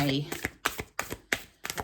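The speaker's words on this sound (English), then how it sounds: "this kind of a shuffle, a hand over hand shuffle, rather than a rifle" A Goddess Power Oracle deck is shuffled hand over hand, producing a quick series of about six crisp, close card slaps in an uneven rhythm, with a brief voice at the start.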